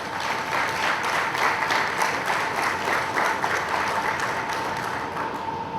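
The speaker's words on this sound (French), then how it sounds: "Je vous remercie d'applaudir cette initiative." Steady, sustained audience applause at an Afro-descendant gathering in Ouidah, Benin, a dense wash of many hands clapping at an even loudness throughout, with a faint murmur of the crowd beneath.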